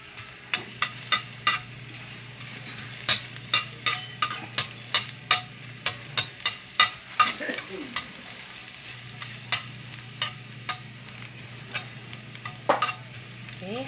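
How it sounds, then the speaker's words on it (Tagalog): Ginger sautéing in hot oil, heard as a steady low sizzle behind repeated sharp clicks and scrapes of a utensil working the pan, with no one talking. "habang ginigisa natin ang ating luya"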